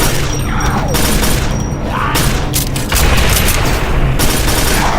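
Machine gun fire in the shooter Quake 4, a dense continuous clatter of bursts with heavy booming impacts and mechanical noise, loud and close throughout.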